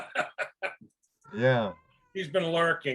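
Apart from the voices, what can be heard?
cat yowling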